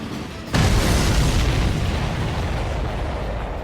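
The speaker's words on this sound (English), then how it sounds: "Did you see that explosion?" A large supply ship blows up in the flight combat game Ace Combat 7, a sudden heavy boom that swells into a long, dense roaring rumble and slowly decays, loud and with no voices.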